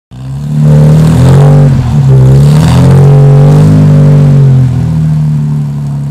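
A Jaguar Mk 1 with an uprated engine revs loudly and close by, a steady deep mid-range drone rising and falling through several throttle blips over about six seconds, with no voices.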